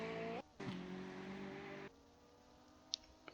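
Lancia LC2 race car in a Nordschleife racing game, its engine note held high, cutting briefly, then winding up again before settling lower, with a few faint clicks toward the end.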